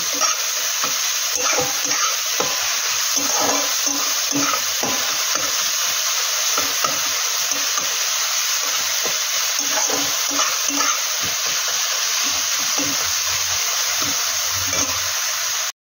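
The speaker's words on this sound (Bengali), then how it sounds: "এইভাবে এটাকে ভালোভাবে নাড়তে হবে।" Meat curry with red gravy is stirred in a hot pan, a spoon scraping and turning the pieces against a constant loud sizzle of frying, with intermittent clunks and scrapes throughout.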